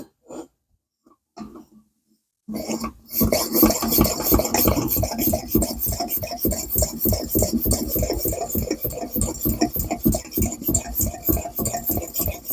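A Coleman 200A lantern fuel tank is pumped up with pressure in a steady, rapid rasping stroke rhythm, close and loud. A few soft handling noises come before the pumping starts.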